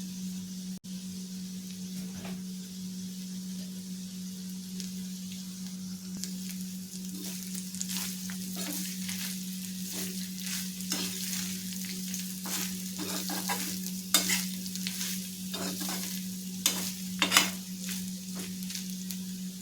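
Bitter gourd with grated fresh coconut frying in a pan: a low steady sizzle under frequent scraping stir strokes and clinks, growing busier toward the end, with no talk.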